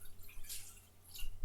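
Water pours from a measuring cup while hoisin glazed pork chops are being cooked. There is a brief, faint splash with a few drips, heard alone and close.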